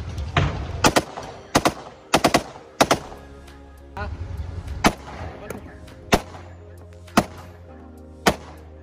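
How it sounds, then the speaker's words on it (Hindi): Single gunshots fired at an outdoor arms market, about ten sharp loud cracks spaced roughly a second apart with a steady low hum beneath. "फायरिंग का एक्सपीरियंस कैसे रहा?"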